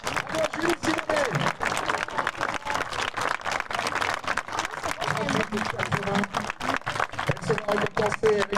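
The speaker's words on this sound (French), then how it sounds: "Elle mérite encore un peu plus d'applaudissements pour la France" Outdoor audience applause at an eventing prize ceremony, a long, uneven wash of clapping from a crowd, with a voice speaking over it on a public address system throughout.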